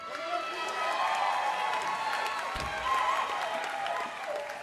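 Crowd applause and cheering fill the hall at the 2018 Indigenous Music Awards in Winnipeg, a steady wash of clapping with shouts that holds loud throughout and eases slightly at the end.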